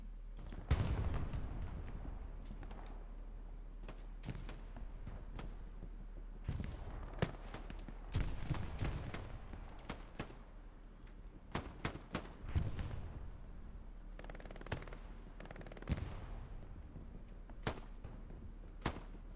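Scattered gunshots crack through a competitive video game match, sharp isolated reports and short bursts at irregular intervals, some near and loud, others fainter, over a low steady hum.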